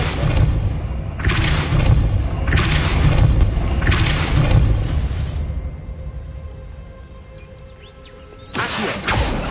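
A Depulso spell in Hogwarts Legacy blasting an obstacle aside, heard as several loud, deep booming bursts in a row, each one thudding with a broad crash, followed by a quieter stretch and then one more burst.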